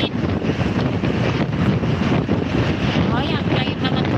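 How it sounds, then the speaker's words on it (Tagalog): Strong wind rushing outdoors in Jeddah, a steady loud blustery roar buffeting the microphone with no clear pauses. "Grabe ang hangin naman sa labas, Lods."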